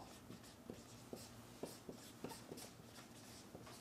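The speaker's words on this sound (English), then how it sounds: "I'm going to write, if I can find a marker that works, I'm going to write" Marker strokes squeak and scratch across a board in a run of short, uneven bursts, close and fairly quiet, with no one speaking.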